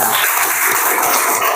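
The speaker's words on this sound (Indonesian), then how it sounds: "Benar sekali, tepuk tangan." A classroom of young pupils claps together in dense, brisk applause, loud and close, with no talking over it.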